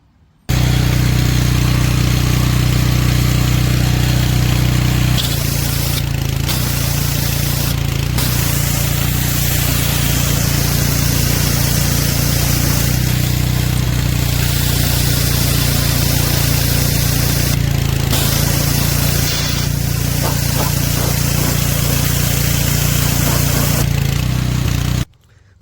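A pressure washer fitted with a TUTULUCK short gun and swivel hisses in a steady loud spray over the drone of its running engine, with a few brief pauses in the spray.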